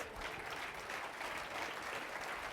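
A roomful of event attendees gives a round of applause, with steady, fairly quiet continuous clapping and no voices over it.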